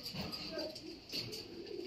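Soft, low pigeon cooing repeats in a steady murmur, fairly close, with faint background noise.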